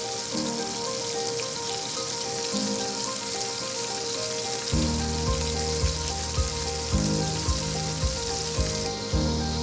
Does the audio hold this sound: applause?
no